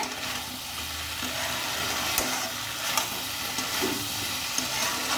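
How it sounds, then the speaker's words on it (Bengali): Spice masala frying in a pan for a Bengali muri ghonto dish, a dense steady sizzle with soft scraping stirs and a few small metallic taps, close and continuous with no talking. "দেখো মশলা কিন্তু কষানো হয়ে গেছে।"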